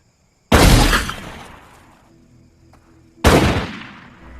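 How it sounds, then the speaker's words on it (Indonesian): Two loud, close gunshots from a film crack out a few seconds apart. Each blast is followed by a long decaying echo, with no speech. "Lalu John menembak kepala Flynn."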